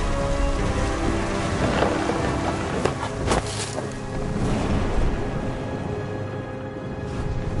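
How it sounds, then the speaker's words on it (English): Heavy rain pours steadily in a PS4 video game thunderstorm, with a few sharp thunder cracks and rumbles near the middle, loud and continuous with no one talking. "The thunder sounded much too close and full of angry power."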